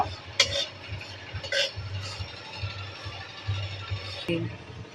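Whole cumin seeds stirred and fried in a pan, faint sizzle under sharp intermittent clinks and scrapes of a utensil against metal, with a low hum and some talk nearby.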